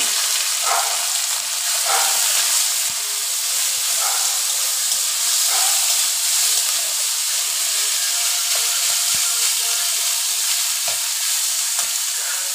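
Oil and ingredients frying in a pan before banana stem goes in, giving a loud, steady hissing sizzle that runs throughout with faint scraping stir knocks now and then and no talking.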